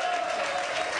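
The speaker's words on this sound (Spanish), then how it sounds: "Un fuerte aplauso para Víctor." An audience at a sustainability event gives a round of applause, a continuous even wash of many clapping hands, fairly quiet and without talk.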